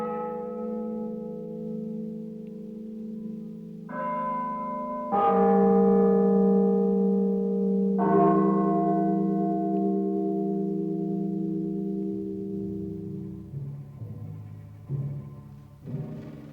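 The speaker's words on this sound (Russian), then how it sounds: "несся погребальный звон." A funeral bell tolls from a cathedral's bell tower, its heavy strokes ringing out loud and close with long, humming decay, several overlapping strikes swelling and fading in slow succession.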